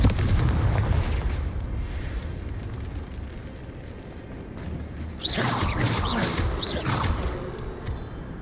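A Confringo fire spell bursts in the Hogwarts Legacy video game, a loud boomy blast with crackling fiery tail over a rumbling game soundscape, followed by a second sharp burst of flame and debris midway.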